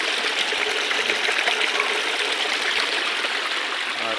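A spring-fed forest stream flowing steadily, a close, continuous wash of water with a bright, hissing texture and no voices.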